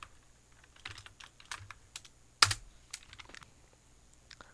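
Keys clacking on a computer keyboard in a quiet room, a scattered run of light taps with one louder, sharper press of the Enter key in the middle.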